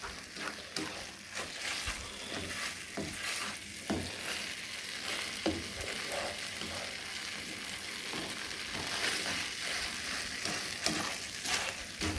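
Manwich sloppy joe sauce heating in a pan as it starts to boil, giving a steady close bubbling sizzle broken by soft stirring scrapes, with no talk over it.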